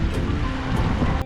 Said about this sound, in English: There was a river that ran through the village which was absolutely beautiful.